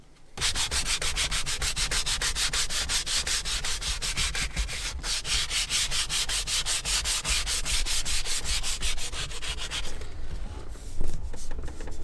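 A filled repair on a steering wheel being sanded by hand, with steady rhythmic scratching strokes at close range running continuously for about ten seconds, then a short softer stretch of rubbing.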